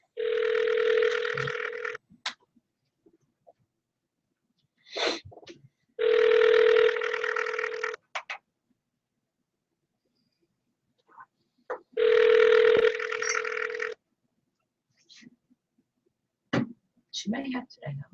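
Telephone ringback tone during a call, repeating as long steady tone bursts about every five seconds, with short voice sounds and clicks in the gaps between rings.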